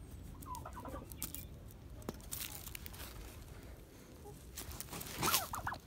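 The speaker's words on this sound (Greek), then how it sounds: "Να και η γαλοπούλα λοιπόν," A turkey released into a new poultry enclosure gives faint gobbling and clucking calls, scattered over soft outdoor background noise, with a brief louder call near the end.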